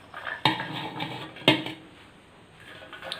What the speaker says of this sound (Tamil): இந்த கட் பண்ணி வச்சுருக்கிற தேங்காயை ஜாரில் சேர்த்துக்கலாம்